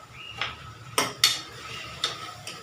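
A metal spoon stirs onions and curry leaves in a pan while a cauliflower kurma is being cooked, giving four or five sharp, close clinks and scrapes at uneven intervals over a quiet background with no talking.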